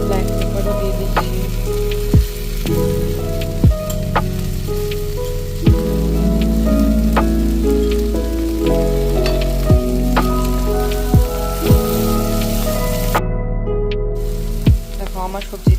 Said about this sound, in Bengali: মিডিয়াম রেখে এটা ভালো করে সটে করে নেব।